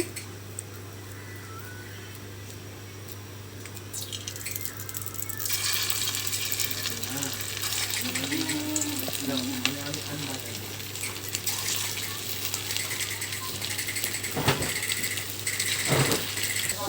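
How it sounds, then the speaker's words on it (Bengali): Potato fritters fry in hot oil in a wok, giving a broad hiss and sizzle that swells after a quieter start. Sharp crackles and clinks break in near the end. "আমি এখন লাল লাল করে ভেজে নেব"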